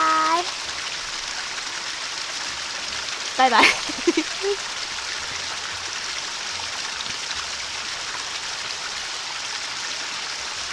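Steady broadband rush of flowing water, like a stream or falls, runs loud and constant throughout, with a voice briefly calling out over it.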